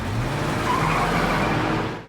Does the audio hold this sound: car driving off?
yes